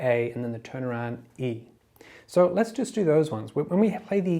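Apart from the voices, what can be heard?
None of the usual background noises is heard.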